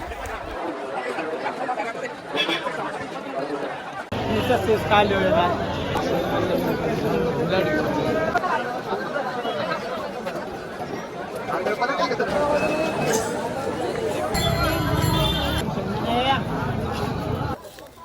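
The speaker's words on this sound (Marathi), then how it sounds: "पुढं गर्दी तर अशी पॅक आहे" Dense crowd chattering in a packed temple courtyard at the Vitthal temple on Jaya Ekadashi, a steady close hubbub of many overlapping voices with footsteps and movement, continuous throughout with a nearby voice speaking briefly.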